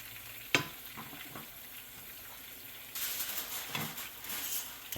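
Puerto Rican queso frito, slices of cheese frying in a pan, gives a steady sizzle and crackle that turns louder and denser midway, with a sharp clink from the pan near the start.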